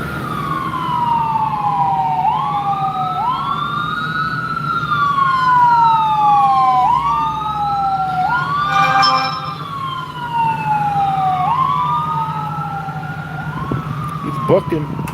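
An ambulance pulls away from a three-vehicle traffic collision scene with its siren wailing in repeated rising and falling sweeps, loud and fairly close over road noise, with a brief burst of other noise midway.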